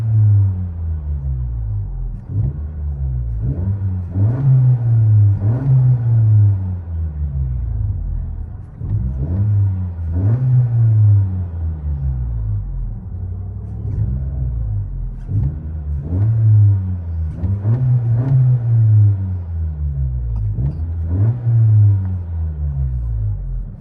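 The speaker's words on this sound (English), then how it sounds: "Honda Civic Sport Turbo LCGP mid and rear delete." A 2020 Honda Civic Sport with a 2.0L turbo engine, LCGP exhaust and resonator and muffler deleted, revving loudly again and again, each deep, raspy rise falling back to a rumbling idle.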